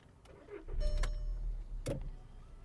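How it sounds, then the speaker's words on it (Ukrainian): A Skoda Octavia A5 engine with 189,000 km cranks and catches with a short rising roar, followed by a brief whirring burst and a steady low idle rumble. "Давайте запустимо двигун."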